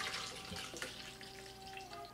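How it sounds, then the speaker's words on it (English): Milk poured into a glass during a giant doughnut eating challenge, a soft, quiet liquid trickle and splash lasting a couple of seconds, close by with no talking. "see if I can not make a mess and pour some more milk"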